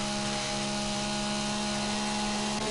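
A chainsaw drones continuously in the zombie survival game 7 Days to Die, a loud steady buzzing engine tone that holds without pause and shifts slightly near the end.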